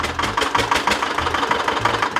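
A vintage tractor engine idles steadily at an agricultural museum, producing a loud, close, continuous rumble with a regular knocking pulse and no talk.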